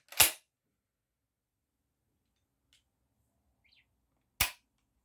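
Two sharp, loud blasts from an Ermox XA4 shotgun at a shooting range, about four seconds apart, with near silence and a couple of faint clicks between them.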